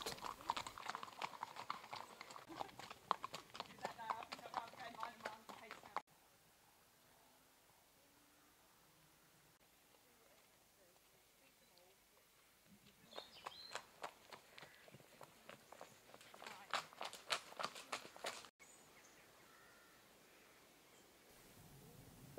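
Horses walk along a path near a car park, their hooves clip-clopping in two bursts of close, irregular footfalls separated by a quiet stretch of faint outdoor ambience.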